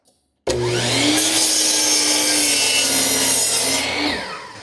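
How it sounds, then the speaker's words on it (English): A chop saw powered by an EcoFlow portable power station bites into wood with a sudden loud start, a steady grinding cut for about four seconds, then spins down, with no talk. "Chopping with the chop saw."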